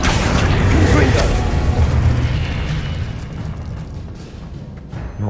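A Confringo spell explodes in Hogwarts Legacy with a loud, booming burst that settles into a rumbling, crackling decay. Close spell combat continues under a voice.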